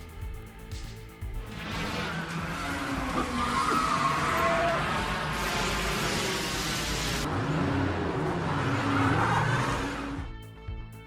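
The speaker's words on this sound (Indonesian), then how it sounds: "Mobil Foto dan mobil Koger selip dan tak dapat keluar dari sana." Race cars skid and slide on a track in a dense, continuous roar of engines and tire scrubbing, loud throughout and tailing off near the end.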